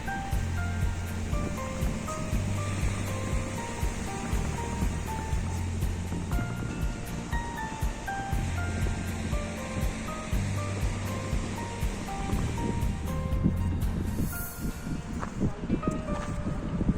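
Sea waves roll onto Mohana beach at Digha in a continuous low surf wash. Faint music and a steady background hum run throughout.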